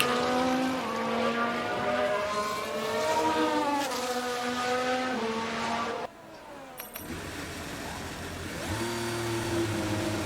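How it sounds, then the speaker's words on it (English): High revving Formula 1 race car engines in a video game whine and shift pitch steadily, then a sharp cut and the engine note returns, sounding synthetic and game-like. "And I'm hearing another car."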